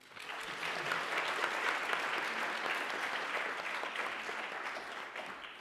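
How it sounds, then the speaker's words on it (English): An audience applauds a speaker at an economic conference, dense sustained clapping that stays loud and even for several seconds with no voices over it. "So please give a round of applause to Ayanna McCoy."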